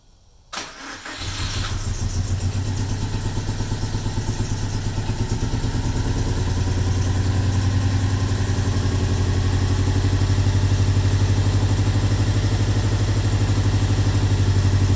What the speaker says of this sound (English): the engine was shaking like super crazy. I think it's only running on 3 cylinders or something